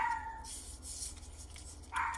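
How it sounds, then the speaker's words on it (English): A dog barks indoors in short, sharp yelps, one near the start and another near the end, with quiet between. "that's my dog"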